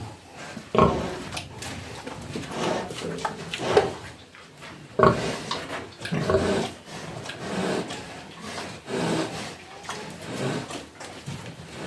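A pig is given an injection in a pen while it runs about in its cage. It grunts and squeals in repeated short bursts, and scraping and rubbing noises come up close.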